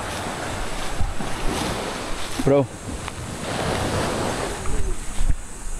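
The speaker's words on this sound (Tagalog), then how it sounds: "Maingay ang alon" Loud sea surf washes and roars in a steady broadband rush close by, with a voice briefly speaking over it.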